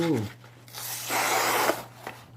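A kitchen knife is sharpened at home with a couple of short rasping strokes of the blade against the sharpening surface, heard up close after a brief bit of speech at the start.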